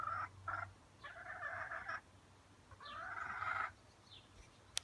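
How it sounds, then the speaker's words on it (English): A hen giving harsh, drawn-out clucking and squawking calls in two short bursts and then a longer one, close and fairly faint over a low background hum. "That's our newest hen."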